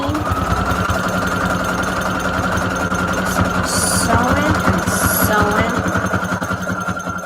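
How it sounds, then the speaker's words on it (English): A sewing machine stitching a zigzag stitch hums along in fast, steady mechanical pulses, loud and continuous, with a faint voice murmuring underneath. "let's do a zigzag stitch here because I need to hold down some edges"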